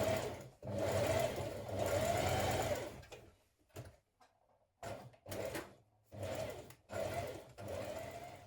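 Domestic sewing machine running stay stitching around a garment neckline, close and steady bursts with short pauses between runs, ending in a series of quick stop-start stitching spurts.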